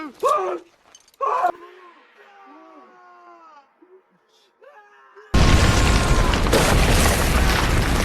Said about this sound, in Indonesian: pin granat dicabutnya yang akhirnya meledakkan gudang stok makanan.